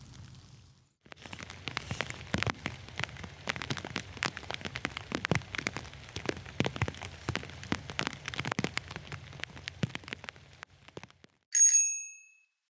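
Rainwater dripping from young rainy-season leaves makes irregular taps and patters, close and distinct, for about ten seconds, ending in a brief bright ringing tone.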